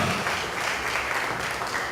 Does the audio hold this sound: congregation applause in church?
yes